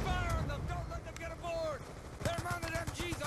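Gunfire in Call of Duty Black Ops 2, during the Pyrrhic Victory campaign mission, sounds as short bursts of shots among game music and effects, with someone talking over it.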